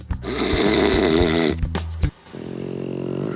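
A voice imitates a French Bulldog's loud, rattling snore: long, rough, throaty snorts with brief breaks, then a softer drawn-out wheeze.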